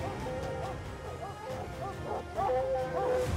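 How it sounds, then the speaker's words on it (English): Hounds baying and yipping excitedly at a mountain lion treed in the mountains, a pack of dogs barking and howling in overlapping bursts at middle distance, growing louder toward the end. "The dogs are absolutely blowing up."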